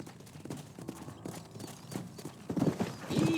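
Horse hooves clip-clop at a steady walking rhythm in the Western video game Red Dead Redemption, soft and fairly close, with a brief snort or whinny near the end.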